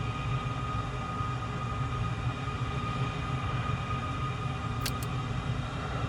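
A broad, steady roar of F-14 jet engines fills the air during an airshow demonstration as the afterburners light, loud and continuous throughout with no speech.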